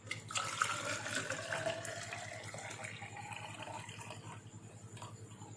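Filtered electrolyte solution is poured straight into the reservoir of an Enagic Kangen water ionizer, a continuous close splashing trickle that slowly softens and thins toward the end.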